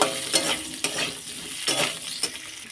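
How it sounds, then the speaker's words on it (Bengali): Sweet potato and pumpkin pieces being stirred in a hot pan, close-up sizzle under a handful of sharp scraping strokes of a spatula against the pan, spaced irregularly, with no voices. "এবার এটাকে আমি একটু নাড়াচাড়া করে নেব"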